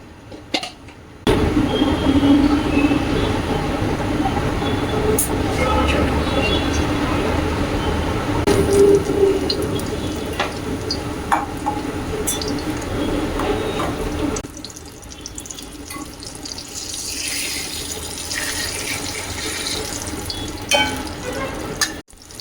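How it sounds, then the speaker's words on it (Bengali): Gram-flour pakoras, made with ridge gourd, frying in oil in a pan, giving a steady, close, broadband sizzle that runs throughout, with faint clinks and a softer stretch toward the end. "তো আমি এখন পকোড়াগুলো ভেজে নেব"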